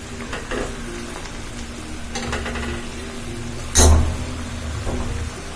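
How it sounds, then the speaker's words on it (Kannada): Sambar at a boil in a pot with chili powder being stirred in, a steady low bubbling bed with soft scraping strokes and one sharp metallic clank of a spoon against the vessel, close and without talk. "ಗಂಟು ಆಗದೆ ಇರೋ ರೀತಿ ನೀಟಾಗಿ ಮಿಕ್ಸ್ ಮಾಡಬೇಕು."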